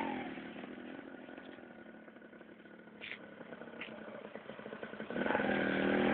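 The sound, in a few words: motorcycle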